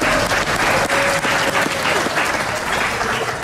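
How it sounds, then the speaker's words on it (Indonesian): A studio audience at an Indonesian ANTV television show applauds loudly and steadily, dense clapping filling the whole stretch with a faint tone running beneath it. "Tepuk tangan."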